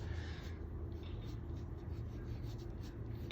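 A drawing of a Brawl Stars character is filled in black, making a continuous soft scratching and rubbing of the drawing tool on paper, close and steady, ending with a small knock and no talking.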